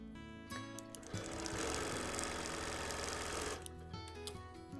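A sewing machine runs in a steady, loud burst of rapid stitching for about three seconds while free-motion quilting a baby quilt, going back over earlier stitches, with quieter handling noises before and after.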